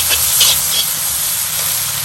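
Chestnuts stir-frying in a Lodge wok over a Weber charcoal grill, giving a loud, continuous steamy hiss that runs unbroken for two seconds, close by.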